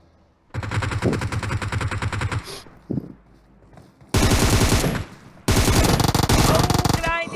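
Loud automatic gunfire from the mobile battle royale PUBG Mobile during a competitive squad scrim, coming in dense rapid bursts with short pauses between them, while players talk over the shooting.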